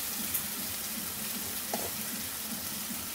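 Spice paste frying in a pan while stirred, a steady close sizzle with rhythmic scraping strokes of the spoon and a couple of brief clinks.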